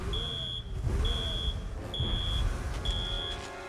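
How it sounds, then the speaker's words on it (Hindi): An alarm going off in a cartoon, four evenly spaced high-pitched electronic beeps at a steady pulse over a busy, rumbling background. "लेकिन अलार्म क्यों ऑन है?"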